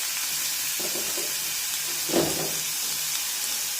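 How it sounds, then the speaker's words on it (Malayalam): Chopped green chillies sautéing with onion in a pan make a loud, steady hissing sizzle, with a brief scrape of stirring midway and no talk. "അതിലേക്ക് അരിഞ്ഞു വെച്ചിരിക്കുന്ന പച്ചമുളക് ചേർക്കാം"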